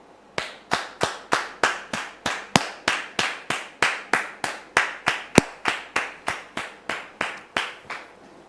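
A studio audience welcomes a guest with rhythmic clapping, about two dozen loud, evenly spaced claps in unison at a brisk, steady tempo with no voices over them.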